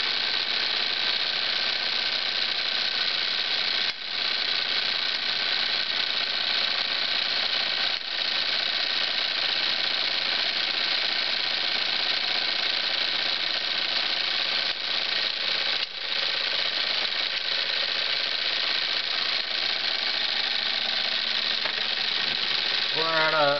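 A Jensen model 25 toy steam engine running under pressure, a steady mechanical whir with a fine rapid ticking rhythm that holds constant throughout, close and continuous with a few brief dips.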